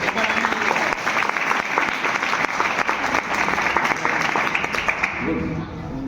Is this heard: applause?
yes